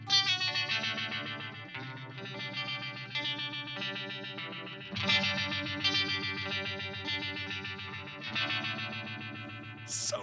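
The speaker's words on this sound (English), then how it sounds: "that's your typical Uni-Vibe sound" Electric guitar chords wash through a Uni-Vibe style effect pedal, a swirling, throbbing, underwater-like modulation with a pulsing, chorus-like wobble, playing continuously for several seconds without speech.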